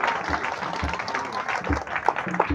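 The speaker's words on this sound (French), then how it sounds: "Alors, il faut applaudir très fort." An audience at a golden jubilee church celebration in Ndiongolor applauds, a steady burst of clapping with some background voices.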